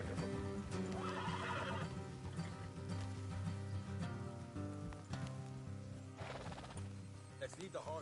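Horses whinny and their hooves clop in Red Dead Redemption 2, with the neighs rising over dense, continuous background music and game sound.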